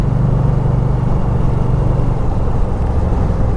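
Indian Scout Sixty motorcycle being ridden, a steady deep engine rumble with wind noise heard close and continuous throughout, no voices.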